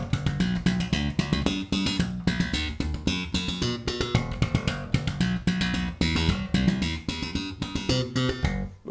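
Slap bass playing the quick, bouncy riff of a song, with snappy percussive thumps and pops in a steady, up-close rhythm and no voices.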